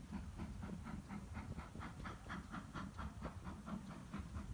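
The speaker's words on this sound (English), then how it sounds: "Trains enter a 495-yard-long tunnel here and run downhill at 1 in 77" A steam train on the Paignton to Dartmouth line chuffs in a steady rhythmic beat with hiss, faint and distant, running continuously without voices.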